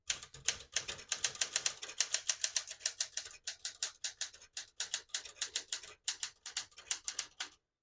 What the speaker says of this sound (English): Beautiful typing machine, excellent condition, both functioning and cosmetic.